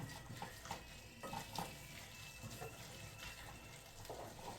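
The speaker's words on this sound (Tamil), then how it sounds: "நல்லா தண்ணி ஊற்றிக்கிங்க" Faint, steady splash of water pouring into a vadai pan over high flame for Chettinad onion curry, with soft trickling and light clatter in the background.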